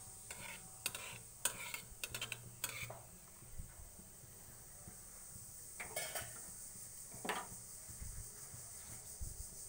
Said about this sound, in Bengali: এবার একটু আমি এটাকে নেড়ে নিচ্ছি সর্ষেটাকে।